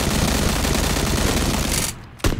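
In the video game PUBG, an auto-clicker cheat fires a gun in a dense, rapid burst of near-continuous shots. The burst cuts off abruptly and is followed by a short final crack.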